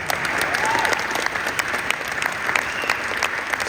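Sustained audience applause in a lecture hall after an inspiring story about a one-legged basketball player, dense and even throughout with a few brighter individual claps standing out and no speech over it.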